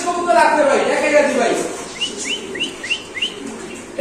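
A Maltese fancy pigeon at a fancy pigeon farm makes short, repeated chirping calls in a quick series near the end, after a voice at the start.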